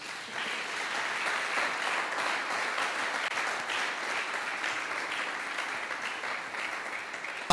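A church congregation applauds in an even, sustained burst of many hands clapping, moderately loud and unbroken, with no talking on top.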